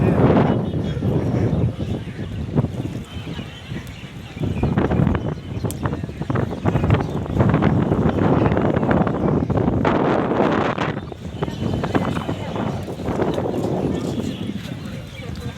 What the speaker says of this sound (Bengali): আজকে প্রচুর পরিমাণে বাতাস।